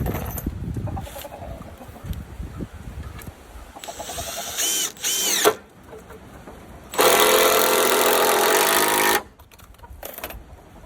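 A power drill drives screws into the wall of a tiny house addition, giving several short whirring bursts and one long sustained run, with quiet gaps of shuffling and handling between them.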